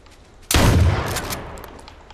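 A burst of gunfire in the video game H1Z1, with shotguns in play: one loud, sudden blast that rings out and slowly fades over about a second and a half, with no talk.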